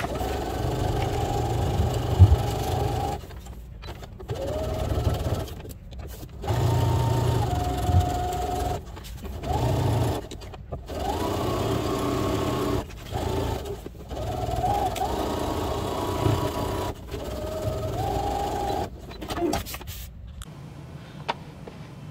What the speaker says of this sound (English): So now I'm going to do a top stitch all the way around at like an eighth of an inch seam allowance